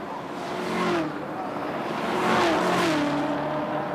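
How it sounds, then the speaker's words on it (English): A V8 ute race car at Sandown roars and revs past with a new exhaust system, its exhaust note rising and falling with broadband noise and harmonic whine, loud and fairly close. "that new exhaust system sounds good"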